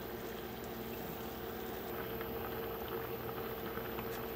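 Water boiling hard in a pot, a steady dense bubbling and rumbling that fills the whole stretch without pause.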